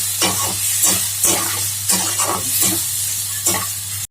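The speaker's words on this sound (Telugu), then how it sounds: "బోటీ వేసుకున్న తర్వాత ఒక 2 మినిట్స్ ఫ్రై చేసుకోవాలి." Boti (goat tripe) frying in a pan with green chillies: a steady sizzle with repeated scraping stir strokes from a spoon against the pan, close and fairly loud, with no talking.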